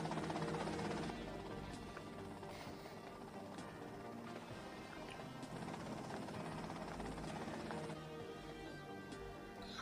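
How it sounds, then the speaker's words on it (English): A helicopter in GTA Vice City gives a steady whirring rotor drone under a dense in-game soundscape, constant and moderately loud for the whole stretch. "Okay, that's them in the chopper."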